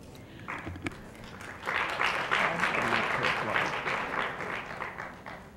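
Audience applause breaks out at a League of Women Voters candidates forum, rising after a brief lull into steady, dense clapping that fills the room and holds for several seconds.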